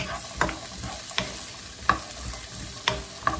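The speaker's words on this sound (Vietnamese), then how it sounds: "cái này xào luôn, sơ một chút xíu rồi mình chút xíu nữa mình đổ sao vô" Food stir-fried in a pan for a Lunar New Year dish, a steady sizzle broken by a handful of sharp clinks and scrapes of a utensil against the pan, no talking.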